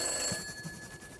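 A telephone bell rings in the video game From Day to Day, a steady electronic trill that stays moderately loud for just over a second with no one speaking.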